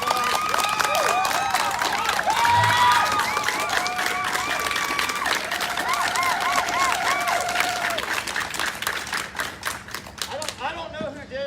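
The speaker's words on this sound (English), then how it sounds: "Can we give them a round of applause?" Crowd applause at an outdoor Confederate monument protest rally: steady, loud clapping from many people with some cheering, and a voice or whistle-like tones over the noise for most of the stretch before it tapers at the end.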